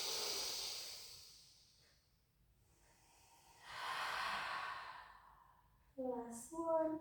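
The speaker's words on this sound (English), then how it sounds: "So this now is just letting that big breath come into the belly." Slow, deep breaths during a pilates session: a long airy exhale fades out, a quieter pause follows, then another steady breath swells and trails off before a few short voiced sounds at the end.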